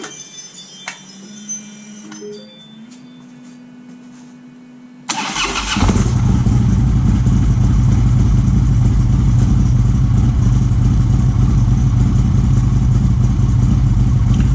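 Harley-Davidson 103 Twin Cam engine fitted with a Cycle-Rama 570-2 cam cranks over and fires up about five seconds in, then settles into a loud, steady, close running rumble with no talk.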